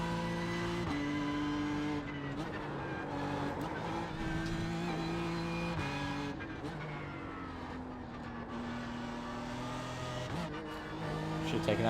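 BMW M4 GT3 race car engine in iRacing, droning steadily through a lap with shifting pitch as it accelerates and drops through gears, loud and continuous, with some talk over it.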